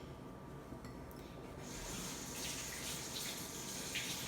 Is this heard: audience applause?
no